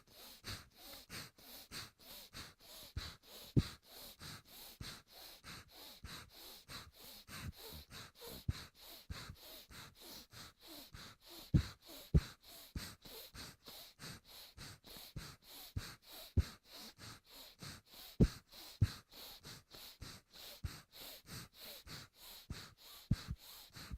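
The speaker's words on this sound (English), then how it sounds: "Close the right, exhale through the left." Rhythmic breathing through the nose during alternate nostril breathing in a yoga session, with repeated soft nasal exhales and inhales at an even pace, faint and close with no talking.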